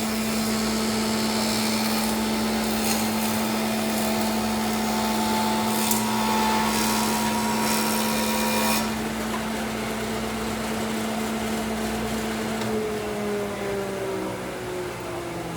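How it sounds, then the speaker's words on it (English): A woodworking machine truing a board edge hums steadily alongside a dust vacuum's constant whine, with a brief louder burst of cutting before the noise eases to a steady drone. "This particular machine, we have the dust vacuum hooked up to it."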